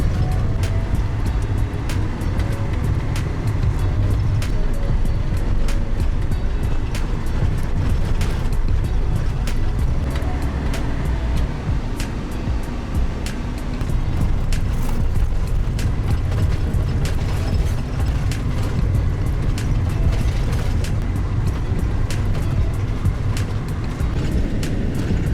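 A vehicle rolls steadily over a beach of white gypsum sand where the pavement ends, its engine rumble and road noise continuous and loud, with rattles and creaks from the cabin throughout.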